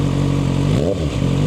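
A 2025 Kawasaki ZX-6R engine with an M4 Street Slayer slip-on exhaust idles with a throaty rumble, briefly revving up and settling back down, close and loud.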